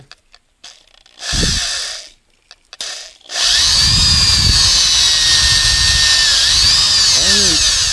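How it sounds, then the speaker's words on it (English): A power drill spinning a cleaning brush inside the bore of a 2002 Honda Odyssey automatic transmission starts in short bursts, then whirs continuously at a loud, high-pitched steady speed, with slight pitch wavering as the spinning load shifts. "I'm just connecting the thing to the drill"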